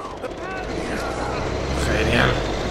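A tank engine rumbles in Uncharted 2, a low steady drone building slightly louder toward the end, with faint voices over it.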